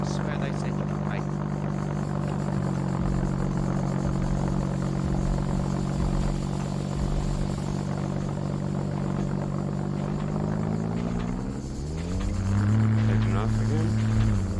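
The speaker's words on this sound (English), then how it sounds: "Taking off again." Propeller plane in the survival game SCUM droning steadily and rising in pitch as it takes off, its engine hum holding throughout with a sharper climb near the end, loud under faint background noise.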